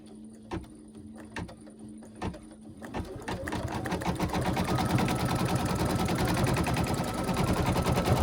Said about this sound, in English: So I have 2 pieces of batting that I'm going to stitch down.